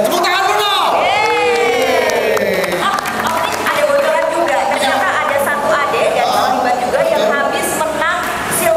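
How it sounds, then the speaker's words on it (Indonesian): A crowd at an Indonesian para badminton coaching clinic claps and cheers continuously, loud dense applause mixed with shouts and whoops, with an amplified voice speaking over the noise. "Tepuk tangan dulu."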